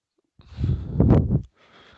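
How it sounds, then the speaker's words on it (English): One person sneezes close to the microphone, a single short forceful burst lasting about a second, with nothing else around it. "About to sneeze."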